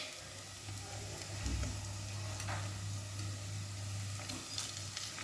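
Bati, the round Rajasthani wheat dough balls, roasting in a pan as they are turned over: a steady, soft sizzle holds across the whole stretch, with a low hum beneath and a few faint clicks of turning.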